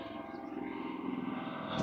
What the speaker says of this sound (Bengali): পাহাড়ের মধ্যে ট্যুরিজমদের হেলিকপ্টার নিয়ে যাচ্ছে